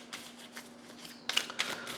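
Tarot cards being shuffled by hand, a short run of soft riffling bursts followed by a louder flurry of card slaps near the end, close and alone.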